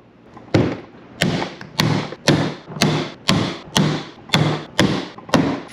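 A hand rivet tool pops rivets into an Old Town Sportsman 106 kayak hull to fit a YakAttack Mighty Mount XL. Nine sharp, snapping thuds land at a steady pace about every half second, close up, each with a brief rasping tail.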